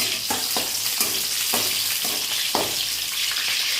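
A little oil frying in a pan with green chillies while egg burji is being made, a steady close sizzle broken by several scraping stirs of a spatula, no talking.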